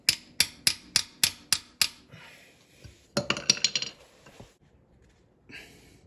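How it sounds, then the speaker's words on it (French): Seven sharp, evenly spaced hammer blows ring on metal on a Farmall Cub tractor, followed by a cluster of quicker, lighter clinks and scraping, then near quiet. "il va falloir que je sorte le marteau"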